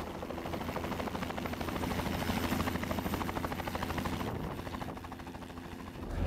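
A helicopter flying over a river that is starting to freeze, its rotor beating in a fast, steady chop at moderate distance, growing slightly louder midway then easing off.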